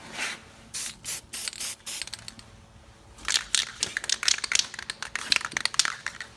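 A hand ratchet clicks in quick, repeated bursts, loud and close, as the bumper and emblems are unbolted from a 1977 Pontiac Ventura under restoration, with a short pause midway.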